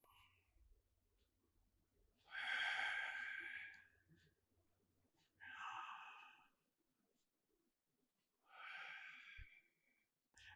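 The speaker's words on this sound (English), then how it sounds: "you anchor your mind in the breathing to the sound of the breathing" Three slow, deep breaths come through close and quiet, each a long airy inhale or exhale a few seconds long, separated by near silence in a calm, still room.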